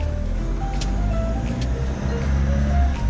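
A car fitted with an electric throttle booster drives along, a steady low engine and road drone with a faint chime or tone now and then, continuous and fairly close.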